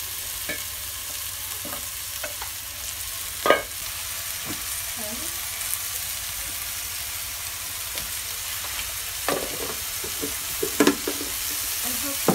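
Giant wild mushroom frying in a pan in a Kenyan village kitchen, a steady close sizzle and hiss lasting throughout, with a few faint clicks and knocks of stirring scattered over it.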